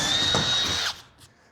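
A power drill drives two-inch construction screws into pre-drilled steel, a close, loud whirring burst of under a second that stops abruptly, followed by a faint click and no talking.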